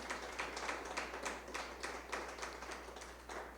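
A church congregation claps together in a steady rhythmic beat, the even pulses carrying over a low constant hum from the room's sound system, moderately loud and without speech.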